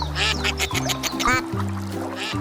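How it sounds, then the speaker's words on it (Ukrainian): Cartoon ducks quack in a children's counting animation, a quick series of nasal, bouncy quacks set over a light musical backing, loud and close throughout. "Дві качечки плавають."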